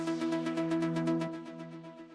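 Hive's Omnisaw synth patch plays in an Afro tech house track, a rapid rhythmic pulsing saw-like chord repeating several times per second over a sustained tone that drops away partway through, loud and upfront.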